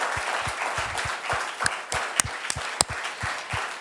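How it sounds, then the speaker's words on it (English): A thundering round of applause from an audience at a live stage event, with dense, steady clapping and a few sharper claps standing out, lasting the whole stretch without talk. "a thundering round of applause for the verdict"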